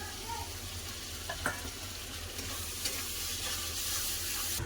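Spice paste with turmeric and chili powder frying for a meat and potato curry, a steady close sizzle with occasional stirring scrapes and small pops.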